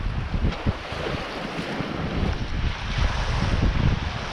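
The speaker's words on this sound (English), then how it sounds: "the wind has kicked. We're surfing along now hard." Strong wind rushing over the microphone and waves hissing past a small sailing dinghy surfing along off the Australian coast near Jervis Bay, a loud continuous roar with no voices.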